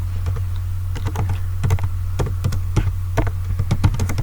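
Rapid clattering keystrokes on a computer keyboard while Python code is typed, steady irregular taps close by and prominent over a low constant hum, with no talking.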